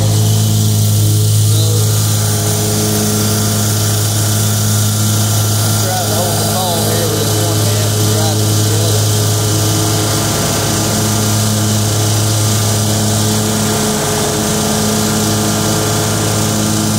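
Loud, steady engine drone of a running lawn mower being driven backward on a bank, constant and close, with a person speaking over it.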